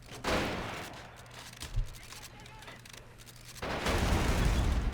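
Gunfire in the war strategy game Men of War: Assault Squad 2 crackles in bursts from a Japan versus Commonwealth battle, with a sharp thump near the middle and a dense, louder volley near the end.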